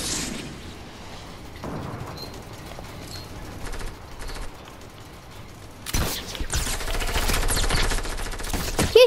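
Gunfire in the video game Fortnite, sparse bursts and pops at first that turn into dense rapid automatic fire in the second half, loud and continuous toward the end.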